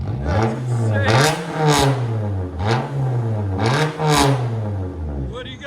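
A 2014 Toyota Corolla S with a 1.8L four-cylinder and a deleted muffler revs hard several times in a row, loud and close, with rising and falling engine pitch and a raspy exhaust tone.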